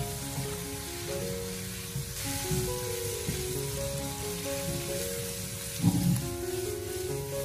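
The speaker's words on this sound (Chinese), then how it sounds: "接着我们再继续的开火将它快速的翻炒一下" Blanched white radish, stir-fried quickly in a wok with rice wine added along the rim, hisses softly and steadily under background music, swelling into a brief louder sizzle toward the end.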